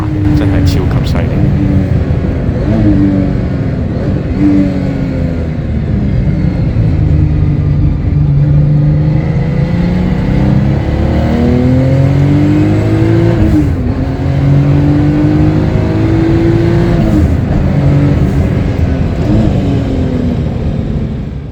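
Tuned JDM sports car, either a Honda FL5 or Toyota GR Yaris, driven hard at speed on the Fuji Speedway track, its loud engine note rising and falling steadily through gear changes under continuous excited commentary.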